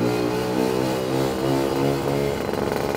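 Lambretta scooter two-stroke engine fitted with a SIP Nordspeed exhaust, loud and close, revving with a buzzing, harmonic-rich drone that rises and falls over a few seconds.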